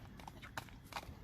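A large, light-footed seven-year-old horse from Chüy moves along with a few soft, faint hoof clops spread across a brief moment.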